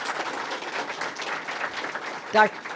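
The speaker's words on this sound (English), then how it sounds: "Let's give a round of applause for our elected officials." A brief burst of clapping from a crowd at a governor's State of the State address, heard faintly through steady background chatter before the room settles back into murmuring.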